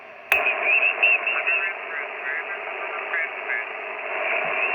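An amateur radio contest station comes through a HamGeek 6699 radio as a loud, band-limited voice over steady static, opening with a sharp click.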